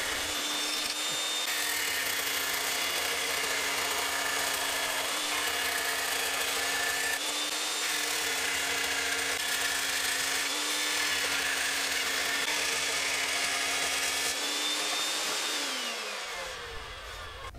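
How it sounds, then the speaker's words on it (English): Sheet metal being cut out by power tool for a motorcycle electronics tray on an XS400 build, a loud steady grinding whine running continuously for most of the clip before winding down near the end. "now I can go ahead and proceed to cut the shape out"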